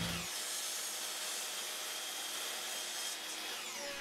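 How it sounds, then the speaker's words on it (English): Walnut boards being cut down to rough size in a woodworking shop, a continuous loud saw whine running steadily throughout after a brief start, close and alone with no voices. "I'm going to start cutting the boards down to their rough size."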